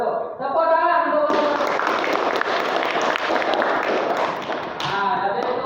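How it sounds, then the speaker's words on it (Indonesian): Students in a junior high school classroom burst into loud, close applause after a brief voice, the dense clapping running steadily for several seconds before a voice returns near the end. "Tepuk tangan dulu."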